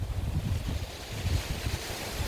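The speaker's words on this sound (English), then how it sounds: "More wind." Wind gusting across a microphone outdoors in a garden in winter, a steady low rumbling buffet with no talk over it.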